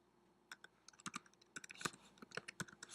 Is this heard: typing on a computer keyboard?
yes